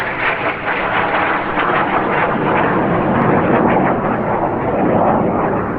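A T-38 training aircraft flies overhead near an air base, making a loud, continuous jet roar that holds steady and fills the whole stretch.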